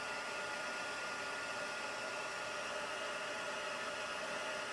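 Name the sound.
heat gun melting embossing powder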